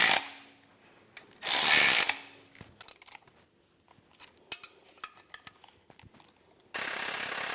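Ratchet wrench clicking as bolts on a small-block Chevy Nova engine sump are tightened, heard as bursts of close mechanical clatter and spaced ticks with quiet gaps between, no talking.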